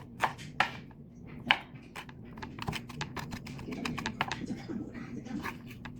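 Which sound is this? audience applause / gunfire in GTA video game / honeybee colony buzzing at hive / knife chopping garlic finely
knife chopping garlic finely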